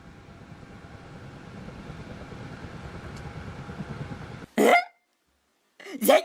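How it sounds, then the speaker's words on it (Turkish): A helicopter flying in the video game Minecraft gives a steady, droning engine hum that swells slightly. It ends in two short, loud vocal bursts separated by silence. "Bu sıcaklarda vallahi çok iyi gidiyor bu helikopter"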